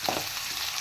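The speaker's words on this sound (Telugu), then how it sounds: "ఇప్పుడు మనం పలవా దినుసులు వేసుకుందాం. ఈ ఆయిల్లో చక్కగా ఫ్రై అవ్వాలి." Whole spices fry in hot oil for egg fried rice, giving a soft, continuous sizzle close by, with a brief stir at the start and no voices.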